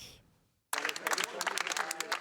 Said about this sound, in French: Des applaudissements pour saluer la relaxe obtenue par les 3 militants anti-GCO